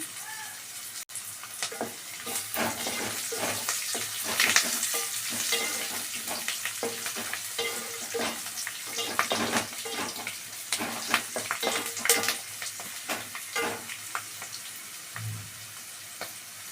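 Food frying in a pan before tomatoes go in, a loud steady sizzle with frequent scraping and clattering strokes of a stirring spoon throughout, and no voices.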